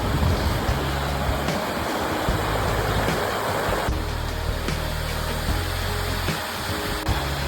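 Upper falls of Emery Creek rush in a constant, dense roar of falling water, close and loud, with no voices over it.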